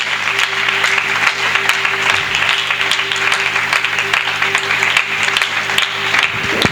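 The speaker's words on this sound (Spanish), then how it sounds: "¿Qué les parece si damos un fuerte aplauso al Señor" A church congregation giving a long, steady round of applause, dense clapping filling a hall at close range without a break.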